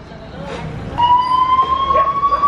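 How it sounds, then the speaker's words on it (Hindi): An ambulance siren on a street outside a sealed building in India starts up and rises into a loud, sustained, slowly climbing wail over traffic noise, with some voices around. "तो गई एम्बुलेंस"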